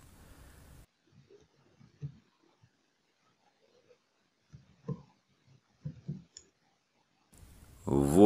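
Sparse, soft keystrokes and clicks sound while a password is entered and the login button is pressed in a Sberbank online banking app, with brief speech at the start and a louder voice at the end.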